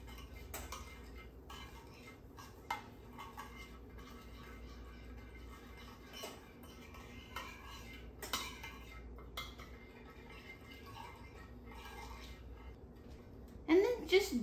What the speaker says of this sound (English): Gently stir it together with the butter.